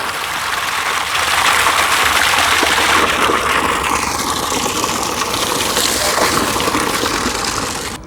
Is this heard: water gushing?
yes